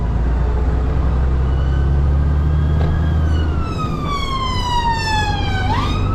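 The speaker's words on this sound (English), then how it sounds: "Okay, the ambulance is over on that side." An ambulance siren wails nearby on the A217 in South London, its rising and falling tone sweeping over the steady rumble of passing traffic.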